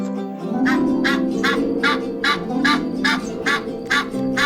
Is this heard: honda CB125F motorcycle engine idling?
no